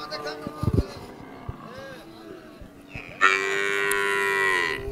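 Cattle moo at a busy livestock market, with a long, loud low call near the end over a background of crowd chatter and murmur.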